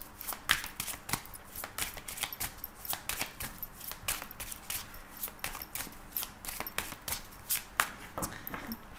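Tarot cards being shuffled by hand in a steady run of crisp riffling flicks and soft slaps, close and fairly quiet, with no talking.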